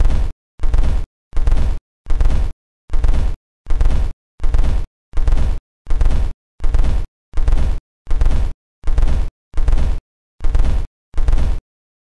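A series of about fifteen evenly spaced simulated flat-plane V8 engine revs, each a short, loud, even-toned burst with brief silences between, no talk.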